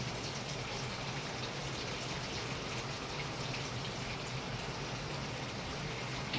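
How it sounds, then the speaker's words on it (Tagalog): Steady rain falls in a dense, continuous hiss with soft patters, close by and unbroken throughout, with no voices. "Nadidinig nyo yung tunog ng ulan dito sa amin."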